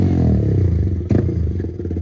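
A Yamaha MT15 motorcycle fitted with an Akrapovic exhaust burbles and revs nearby in a short burst, with a deep, bassy exhaust note, one sharp crackling blip in the middle, and some clatter.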